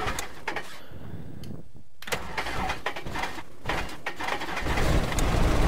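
A light aircraft engine cranks and catches in the Prepar3D flight simulator, with steady mechanical whirring and clicks that build into a louder rumbling run near the end.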